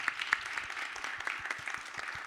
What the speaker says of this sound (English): Have a round of applause for this amazing panel.